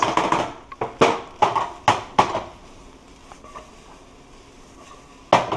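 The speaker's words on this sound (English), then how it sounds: "Here, it's sizzling again." Chicken fried rice being stirred in a pan, with several sharp metallic clanks of a utensil against the pan followed by a quieter stretch of low sizzling, then one more clank near the end.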